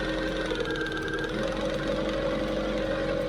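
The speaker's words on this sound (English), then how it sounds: "Customer states, car runs weird when idling." A car engine idles roughly after weeks parked in a barn, giving a steady low hum with a faint uneven pulse and a whining tone, close by and without talk.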